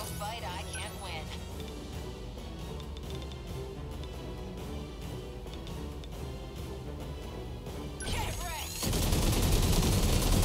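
Weapon fire strikes incoming missiles in 13 Sentinels: Aegis Rim, with busy game sounds and a voice talking over them, ending in a loud, dense rush of impacts near the end.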